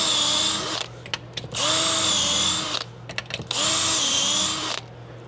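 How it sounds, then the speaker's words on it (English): A power drill bores holes into a ski for mounting bindings, whining loudly in three long bursts separated by brief pauses and short clicks, close up with no talking. "Slowly drill this in vertical"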